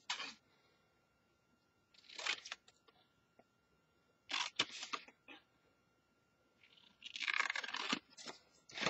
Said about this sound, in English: use the longest bladed scissors that you have to do this